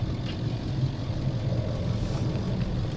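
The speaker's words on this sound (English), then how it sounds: "And got the engine running." An ambulance truck engine idles in a steady, low rumble close by, continuous and even with no talking over it.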